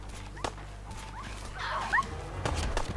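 A dog in the Fallout 4 video game whimpers and yips in short, high, wavering cries, set against steady low game background noise with a few sharp clicks.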